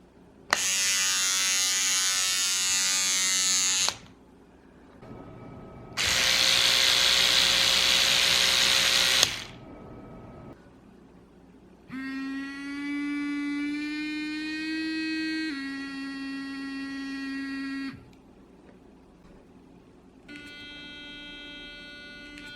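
Two electric toothbrushes, including a Digoo DG-YS11 and an S100, buzz in turn: a harsh, hissy motor drone in two bursts, then a lower, smoother whirring hum that shifts pitch slightly.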